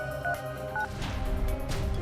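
A telephone is dialed to call the police, with a few short tones under a busy, noisy room background, faint and brief.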